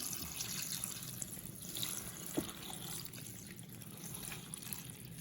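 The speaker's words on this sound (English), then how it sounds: "And now I am going to pour in the water." Steady stream of water poured into an Instant Pot of collard greens seasoned with Old Bay and pepper, a continuous close splashing gush with no talking.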